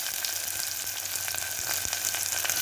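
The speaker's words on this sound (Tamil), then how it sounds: "சின்ன வெங்காயம் சேர்த்துக்கலாம்" Small shallots sizzle in hot oil with mustard seeds and garlic, a close, steady crackling fry with faint pops and light stirring throughout.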